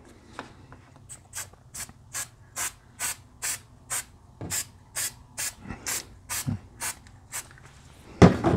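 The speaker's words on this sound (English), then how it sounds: "So I'm going to just spray some adhesive down" Spray adhesive hisses from an aerosol can onto cutaway stabilizer for a hat embroidery patch, about fifteen short, evenly spaced bursts, close and distinct over a quiet room.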